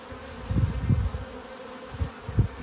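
Bees buzzing around a nuc hive with a feeder, close, uneven droning with several louder swells as individual bees pass near, no talk.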